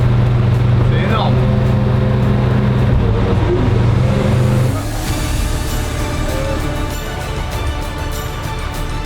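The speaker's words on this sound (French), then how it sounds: "Un véhicule amphibie quoi." An amphibious vehicle's engine drones loudly as it drives on water, a steady low hum that shifts to a rougher, broader rumble halfway through, with people talking over it.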